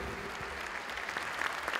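Audience applause at a basketball club's season presentation in Forlì, a dense, steady clatter of many hands clapping throughout the brief moment.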